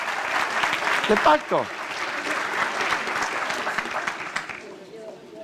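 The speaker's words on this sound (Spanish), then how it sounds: "Le damos un aplauso al Señor." A church congregation breaks into broad applause at a Spanish-language sermon, sustained clapping from a full room that fades near the end, with a brief spoken phrase over the start.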